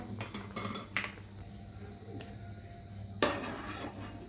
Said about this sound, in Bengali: একটু কাঁটা চামচ দিয়ে দেখে নেব